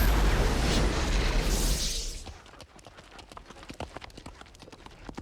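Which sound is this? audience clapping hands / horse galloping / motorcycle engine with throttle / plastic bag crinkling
horse galloping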